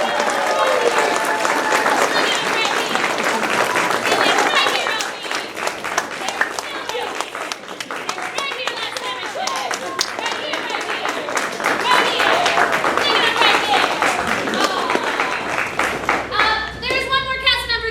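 A theatre audience claps for the cast of a Snow Queen production, sustained applause that swells and carries on, with a voice speaking over it near the end.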